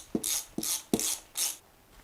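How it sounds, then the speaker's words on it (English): A ratchet wrench clicks in four quick bursts while tightening the bolts on a new FloFX shower drain adapter ring, fairly close and without any talk. "Now I'll tighten the bolts down."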